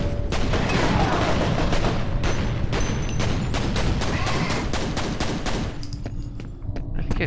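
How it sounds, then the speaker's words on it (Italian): Rapid, continuous gunfire in the video game F.E.A.R. crackles for several seconds, dense automatic bursts with booms, loud and close, tapering slightly toward the end. "Ma dove spari? Da dove stai sparando?"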